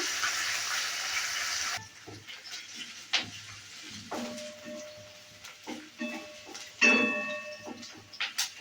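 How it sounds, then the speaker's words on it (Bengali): Capsicum frying in oil in a pan: a steady sizzle at first, then quieter intermittent crackles and clinks of stirring, fairly close and moderately soft. "এবার দিয়ে দিচ্ছি ক্যাপসিকাম ক্যাপসিকামটাকেও ভেজে নেব"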